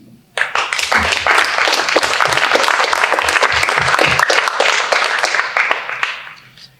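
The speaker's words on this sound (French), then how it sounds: "vous pouvez la saluer, l'applaudir bien fort, encore une deuxième fois" Audience applause at a political meeting presenting the programme and candidates for the La Rochelle agglomeration. Loud, dense clapping starts abruptly, stays strong for several seconds, then fades out near the end.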